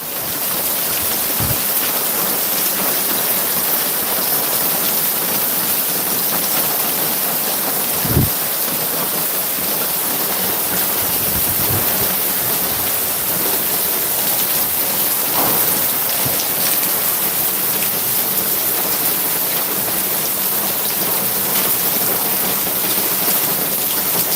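Heavy rain pours steadily and loudly, a dense continuous hiss, with a few low rumbles of thunder breaking through, including one sharper clap midway; no voices.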